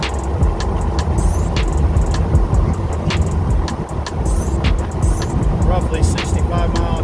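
A truck on 488 gears and 35-inch tires cruises in sixth gear past a residential area, a steady, loud engine and road drone running throughout with some brief higher clatter on top.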